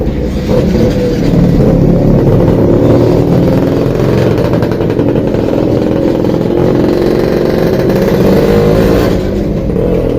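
A Yamaha Mio Soul i 125 scooter engine running up close after throttle body cleaning, a loud steady drone held at a fairly even speed with slight swells, no talk.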